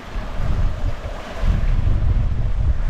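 Long sea waves wash around a sailboat heading from Porto Pollo toward Ajaccio in the Mediterranean. Loud, steady wind buffets the microphone throughout, and no voices are heard.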